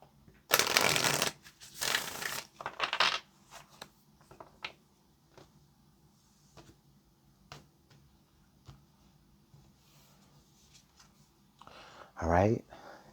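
A deck of tarot cards is shuffled in a few loud riffling bursts near the start, then soft taps and handling, and a final quick riffle near the end, all close up.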